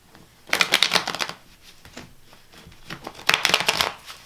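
An old tarot card deck is shuffled up close, giving two crisp riffling bursts of cards separated by softer handling and rustling, with no talk.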